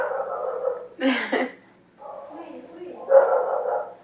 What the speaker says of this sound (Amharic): እኛ ሰፈር ውሾች እየቀወጡት ነው።